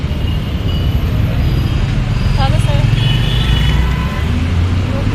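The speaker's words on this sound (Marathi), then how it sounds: "हडपसरचं ट्रॅफिक बापरे" Busy road traffic in Hadapsar hums and rumbles continuously nearby, with engines and passing vehicles blending into a dense, steady roar under brief talk.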